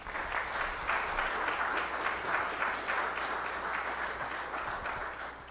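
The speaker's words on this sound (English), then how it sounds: "Can you please give our guests a round of applause, please?" An audience at an annual lecture gives a steady round of applause for the guests. The clapping is continuous and moderately loud, a dense patter of many hands with no talk over it.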